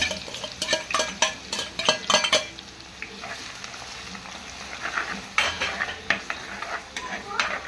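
Crushed ginger and garlic fry with curry leaves in coconut oil in a pan for homemade chicken curry, a steady close sizzle broken by repeated spoon scrapes and clinks as the mixture is stirred.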